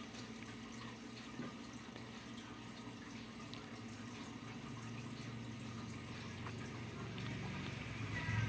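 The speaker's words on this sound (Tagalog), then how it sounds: "sasalain na para matanggal yung sapal" Calabash (miracle fruit) juice being strained to remove the pulp, liquid pouring and trickling steadily through a strainer, close and fairly quiet, growing slightly louder toward the end, with no talk.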